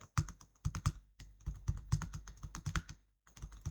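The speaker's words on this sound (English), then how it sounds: "We will click on cell A30, type pi in the sky." Typing text into an Excel spreadsheet cell on a computer keyboard, bursts of close, crisp keystrokes in an irregular rhythm with a brief pause before the last few taps.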